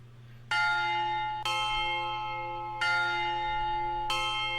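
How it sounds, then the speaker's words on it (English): A bell rings in The Sun Shines Over Us video game, four loud resonant strikes at a slow, even pace, each ringing out and decaying over a steady low hum. "That bell is still loud as ever."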